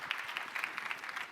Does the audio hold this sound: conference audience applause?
yes